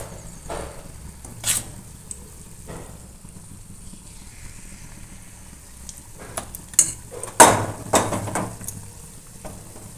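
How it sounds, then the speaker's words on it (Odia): Spoonfuls of banana ball batter drop into hot oil and start frying. A spoon scrapes and clinks in bursts over a low sizzle that stays in the background. "ବର୍ତ୍ତମାନ ବାନାନା ବଲ୍ସ ଗୁଡ଼ାକୁ ଏମିତି ପକେଇବା ଚାମଚ ଦେଇକି"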